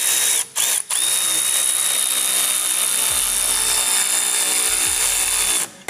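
A ratchet tightens a sway bar bolt on a 1979-2004 Mustang, a near, steady mechanical buzz running almost without break for about five seconds with two brief pauses near the start, no talk.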